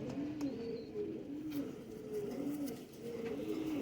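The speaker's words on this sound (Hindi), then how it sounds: "ये सब प्रवासी कबूतर हैं" Kabuli high flyer pigeons coo in a steady, repeating rhythm, soft rolling calls close by with a faint hiss of background noise and no talking.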